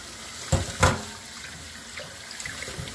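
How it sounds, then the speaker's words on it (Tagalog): Tap water runs steadily over tomatoes being rinsed before chopping, a soft continuous splash at close range with a couple of brief louder gushes near the start. "Huhugasan natin ang kamatis bago natin ito hiwain."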